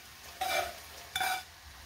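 Two short scraping stirs of fried okra coated in gram flour, tossed with spices in an oil-filled pan, each a brief swish separated by a pause.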